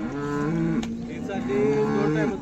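A cow at a livestock market lets out two long, loud moos in close succession, the deep tonal calls sounding near and clear with no talk over them.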